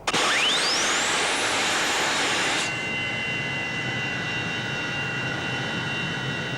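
An RAAF F-111C jet engine fires up on a cordite cartridge starter with a loud whoosh and a rising whine that climbs steeply over about two and a half seconds, then settles into a steady, roaring turbine drone.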